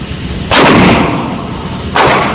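Two loud, close shotgun blasts about a second and a half apart from a shotgun fitted with a Blackhawk Knoxx SpecOps Gen II recoil-reducing stock, each with a sharp crack and a decaying echo.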